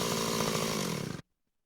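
Cartoon chainsaw running at a loud, buzzing idle with a rough sawtooth drone, then cutting off abruptly into silence.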